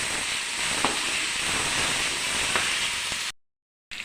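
Field beans and onion fry in a pan with a dense, steady hiss of sizzling oil. It cuts off to silence near the end, then briefly returns.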